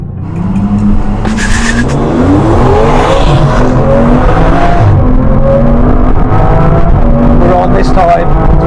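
An Aston Martin V12 Vanquish pulls hard under full acceleration, its engine note climbing loud and steady through rising revs with brief tyre noise, while people talk over it.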